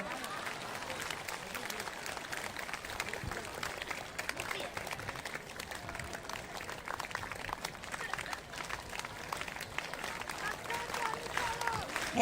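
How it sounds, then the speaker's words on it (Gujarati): Audience clapping at a devotional event, steady and continuous throughout, a moderately distant crowd with faint voices and chanting blended underneath. "તાળી પાડો."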